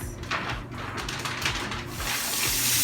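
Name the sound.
rinsing king crab under running water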